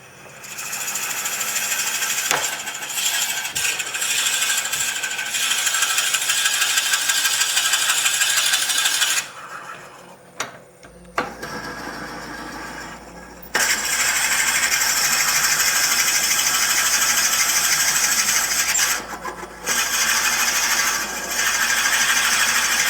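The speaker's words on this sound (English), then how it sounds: "And now we go further with a bit smaller drill." Loud, continuous whirring and grinding of a drill boring into spinning wood on a lathe, hollowing a piece for a güiro, interrupted by a brief pause before resuming steadily with a smaller bit.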